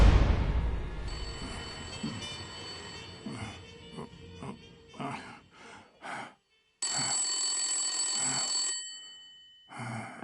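Telephone in Blacksad: Under the Skin rings in repeated bursts, a bright trilling bell separated by short gaps, clear and fairly close, with a faint breathy sigh near the start.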